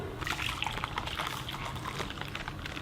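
Hot water poured into a pouch of MRE beverage powder, a steady close liquid stream with gurgles and splashes throughout.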